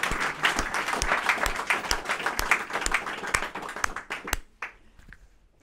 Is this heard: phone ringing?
no